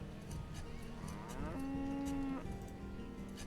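A single drawn-out cow moo rises in the middle of the farming game Banished, clear against a quiet background of soft game ambience.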